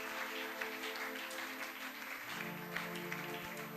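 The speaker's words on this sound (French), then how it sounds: "J'aimerais entendre vos acclamations." A church congregation cheers and applauds during a service, a continuous roar of clapping and voices that stays full and steady throughout, with a sustained musical tone running underneath.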